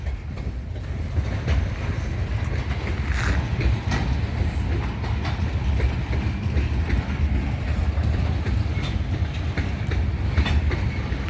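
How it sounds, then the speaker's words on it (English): A long freight train rolls through a town at close range, its steady rumble and rhythmic clickety-clack of wheels on rail joints continuing without a break, loud and uninterrupted by talk. "That's the end of the train there."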